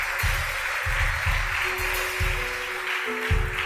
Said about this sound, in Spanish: denle un aplauso a Dios si usted lo cree